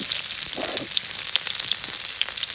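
Garlic frying in mustard oil crackles and sizzles loudly and continuously, with scattered sharp pops spitting from the pan and no talk.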